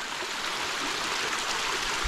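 A mountain river rushes and splashes in a steady, continuous hiss of flowing water, fairly close, with no voices.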